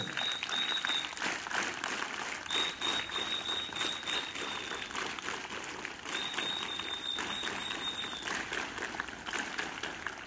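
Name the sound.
audience applause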